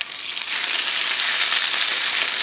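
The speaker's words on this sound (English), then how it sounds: "So what we're going to do is we're going to fry up our bacon here," Bacon fries in a pan with a loud, steady crackling sizzle that builds slightly and continues without pause over a short stretch.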